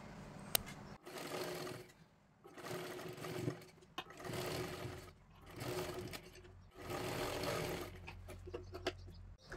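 A sewing machine stitches a blouse sleeve strip in several bursts of a few seconds each, its fast whirring rattle stopping briefly between runs, close and moderately loud.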